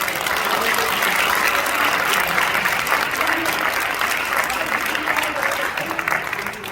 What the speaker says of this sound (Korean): 박수로 추대해 주시기 바랍니다.